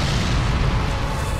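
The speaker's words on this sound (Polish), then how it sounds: "Pewnie, żygnij sobie jeszcze eksplozją, czemu nie?" A Dark Souls 3 boss spews an explosion attack, a dense, loud roaring burst that fills the whole moment with rumbling blast noise and no talking over it.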